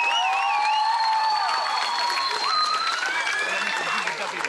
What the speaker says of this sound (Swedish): En applåd till Primo också,